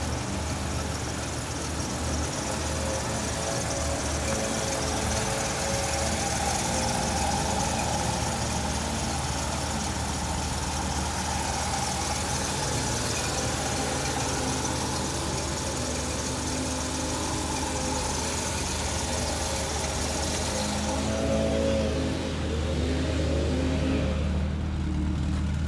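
The engine of a 1966 Ford Ranchero runs steadily for a long stretch, a close, rumbling drone with mild swells in revs and no talking.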